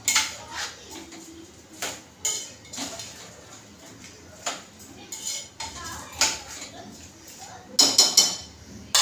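Metal spoon scraping and clinking against a cooking pot while soybean rice is stirred, making irregular clattering strokes close by.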